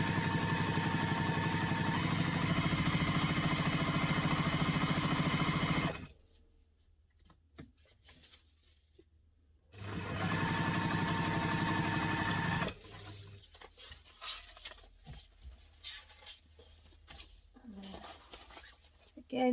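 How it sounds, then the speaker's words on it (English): A sewing machine stitches a bowler bag seam, a fast steady mechanical whirr running for several seconds, stopping, then a second run, followed by quieter handling noises. "So I'm going to stitch across there with the seam allowance stated in the pattern"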